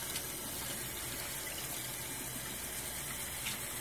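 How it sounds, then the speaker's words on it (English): Cold tap water runs steadily over raw pork chops in a kitchen sink, a continuous hissing splash of moderate loudness with no speech. "Rinse them off front and back."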